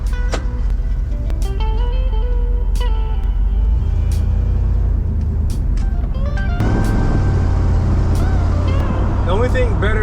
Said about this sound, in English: cruising in my truck with the windows down on a nice day